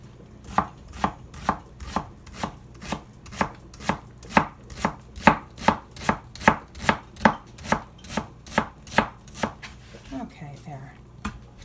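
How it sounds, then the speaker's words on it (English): A knife chops potatoes on a cutting board, about twenty-five evenly spaced, crisp thuds in a steady rhythm, close and clear, ending with a softer clatter. "Potatoes are all cut up."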